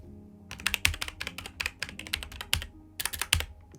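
Someone types on a computer keyboard, close by, in quick irregular bursts of crisp key clicks separated by short pauses, with no voices.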